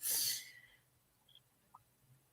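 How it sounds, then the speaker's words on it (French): A person gives one short, sharp cough close by, and then a quiet room follows with only faint small noises. "pourquoi tu tousses?"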